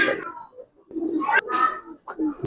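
Pigeons, including Giribaz and coloured breeds, coo in short soft bursts, several throaty calls close by with brief gaps between them.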